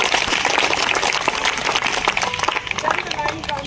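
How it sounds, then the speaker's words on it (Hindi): Applause breaks out at a school prize distribution ceremony as a student topper is welcomed to the stage, a dense patter of clapping that thins toward the end, with voices and crowd noise mixed in. "जोरदार ताली से स्वागत करूंगा इस मंच पर अभिषेक कुमार"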